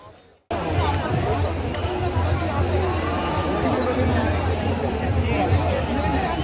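Crowd of protesters at Jantar Mantar in Delhi, a dense, continuous babble of many voices that starts abruptly and holds steady at close range, with a speaker talking over it.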